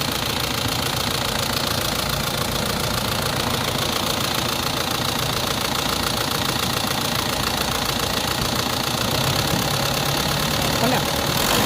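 A car engine runs steadily and loudly throughout with a rough, knocking mechanical rumble, continuous and close, without clear rev swells.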